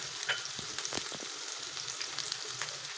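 Chopped onions dropped into hot oil in a pan for a coconut fish sauce, giving a close, continuous frying hiss with a few quick stirring clicks.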